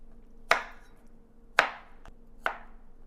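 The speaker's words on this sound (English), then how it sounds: "Let me get a handful here and chop up finer." A knife chops through honeydew melon on a cutting board, three sharp, distinct thuds spaced roughly a second apart, close and clear over a faint steady hum, with no talking.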